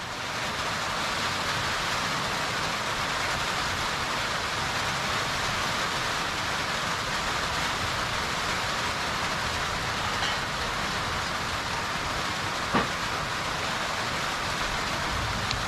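Steady rain falls continuously on a surface during a power cut at a home kitchen, a dense even hiss filling the scene with no talk, one small knock near the end.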